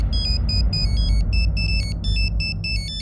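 A mobile phone rings with an incoming call, playing a repeating electronic ringtone melody of quick bright tones. A steady low background hum runs beneath it and nobody speaks.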